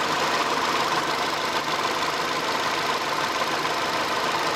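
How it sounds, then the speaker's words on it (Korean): A 1.6-litre gasoline SUV engine idles steadily with the hood open, a continuous even drone with a regular beat and no knocking, close and fairly loud with no one talking. "엔진 사운드 헤드 치거나 그런 소리 없이 규칙적인 휘발유 엔진 소리 갖고 있었던 차량입니다."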